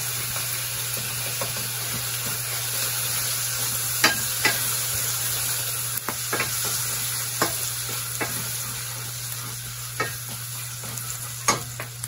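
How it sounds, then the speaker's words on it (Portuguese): Garlic sizzles and fries in a pan on a wood-fired stove, a steady crackling hiss punctuated by occasional sharp clinks of stirring, close and moderately quiet with a low background hum. "Já fritou aqui, então vamos colocar logo o alho."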